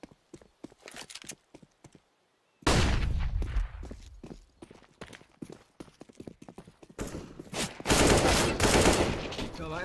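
Gunfire in Counter-Strike: Global Offensive during an ESEA MDL Australia match, sharp close shots and rapid bursts breaking through quick clattering footsteps, with loud sustained volleys between quieter stretches.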